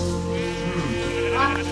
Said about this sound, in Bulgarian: Три овце имам аз, това какво значи?